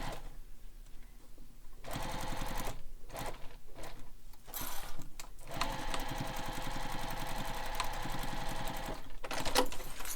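A sewing machine runs in several bursts while stitching a triangle across a backpack panel, first short stop-start runs, then a long steady buzzing stretch, loud and close with no talk.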